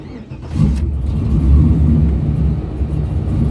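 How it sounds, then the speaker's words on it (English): A small block Chevy V8 with a big cam in a 1992 Chevy Camaro RS cranks and fires up into a loud, rumbling, lopey idle that stays close and steady. "sexier sounding than a small block Chevy with a nice big cam in it"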